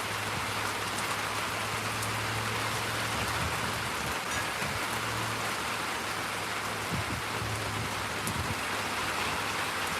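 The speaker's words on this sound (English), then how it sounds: "I sure do love sitting on my porch though and watching it rain." Steady rain pours down as heard from a porch, a dense continuous hiss with a low constant hum underneath and occasional soft thumps, even and close, no talking.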